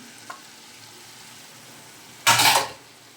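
Washed taro root tipped into hot ghee with fried onions hits the pan with a sudden loud, broad sizzle that swells briefly, then fades, after a quiet stretch of low background hiss.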